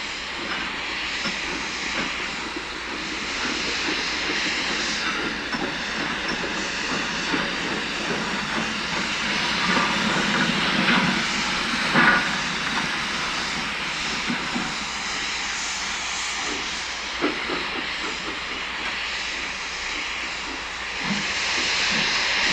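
Steam locomotive 46247 City of Liverpool reverses out of a shed yard past carriage and wagon works, giving a steady, loud hiss of steam with a low rumbling undertone and occasional sharper bursts.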